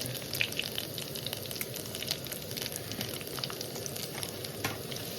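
Mustard seeds and cumin tempering in hot oil for a tomato chutney, a dense steady sizzle with scattered small pops and crackles, close and continuous with no voices.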